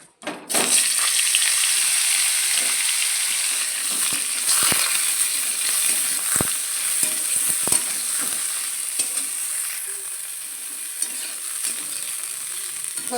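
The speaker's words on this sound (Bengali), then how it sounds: "এবার আমি কপিগুলো এই তেলে ভেজে নেবো।" Cauliflower florets, parboiled with turmeric, frying in oil in a pan where fish was just fried, giving a steady close sizzle with occasional stirring clatters throughout and no talking.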